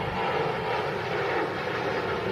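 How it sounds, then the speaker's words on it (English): A Ryanair jet takes off in a steep climb, its engines giving a loud, continuous roar that stays steady and close for the whole moment. "Very steep climb from the Ryanair there."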